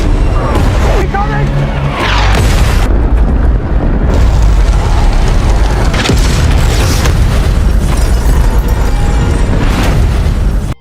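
Airstrike explosions in a military shooter video game, a loud continuous barrage of deep booms and blasts with rumbling debris, dense and near throughout with brief dips between impacts.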